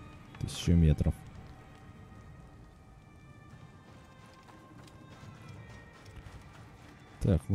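Horse hooves clatter in the Assassin's Creed Origins video game, a short loud burst of clip-clop near the start and another at the end, with quieter ambient game sound between.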